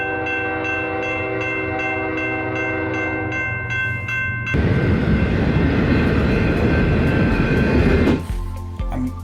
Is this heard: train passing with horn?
yes